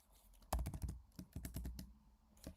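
Quick bursts of typing on a computer keyboard, with clusters of close, clattering keystrokes separated by short pauses, quiet and with no talk.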